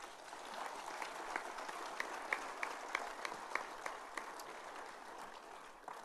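An audience claps steadily at a Communist Party political meeting, a sustained, fairly distant round of applause with scattered sharper claps standing out.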